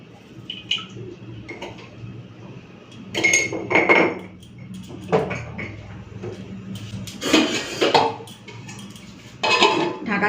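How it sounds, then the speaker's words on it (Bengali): A lid clanks onto a pot of mung dal boiling with salted water on a home kitchen stove, producing several metallic clatters and knocks of cookware spread across a few seconds, with no speech. "ঢাকা দিয়ে দিলাম, এই যে ডালটা সিদ্ধ হোক।"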